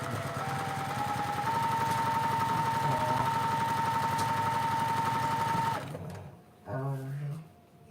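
A sewing machine stitching quilt rows, a fast, steady mechanical whirring chatter close up that runs for several seconds and then stops, followed by a brief voice.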